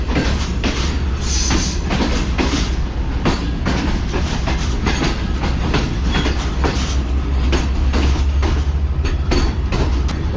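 The Tezgam train rolls into Khanewal Junction platform with loud, rhythmic clickety-clack of wheels over rail joints repeating steadily, a heavy rumble underneath and a brief high squeal of wheels early on.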